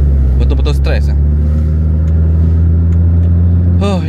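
A rotary-engine JDM legend car runs close and loud with a steady, deep engine drone throughout, while brief talk rises over it at the start and end.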